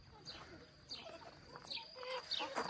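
Chickens cluck and chirp in short, scattered calls, fairly quiet and close, with faint background noise throughout.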